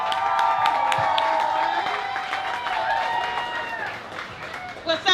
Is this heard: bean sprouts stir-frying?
no